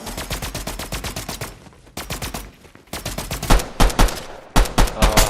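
Rapid SMG gunfire in Fortnite, loud and close, in several quick bursts with short pauses between them.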